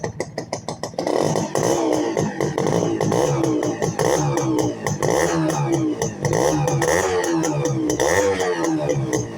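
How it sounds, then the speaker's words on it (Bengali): A Honda car engine running, a loud, close rough idle with a rapid rattling pulse, starting with a few uneven knocks before settling into a steady clattering drone. "আপনাদেরকে গাড়িটার একটু সাউন্ড শুনেন"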